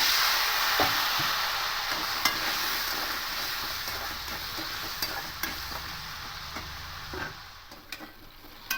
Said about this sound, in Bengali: আর সামান্য হলুদ গুঁড়ো দেব আলুগুলোকে ভেজে নেব